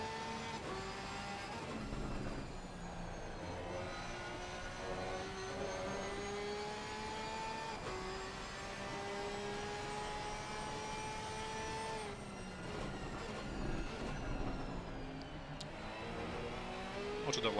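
A Porsche race car circles the track during a race at Valencia, its engine droning steadily with rising and falling whine and gear changes over the full stretch, joined by other cars, with faint talk underneath.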